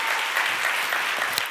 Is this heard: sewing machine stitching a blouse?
no